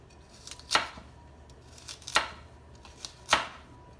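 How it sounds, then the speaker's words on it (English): A knife chops through a bunch of baby carrots at once, cutting them into quarter-inch pieces. Three sharp, separate chops land about a second apart, close and crisp, with quiet between them. "I'm going to cut, maybe 1/4-inch pieces. I'm just going to cut a bunch of them up at once"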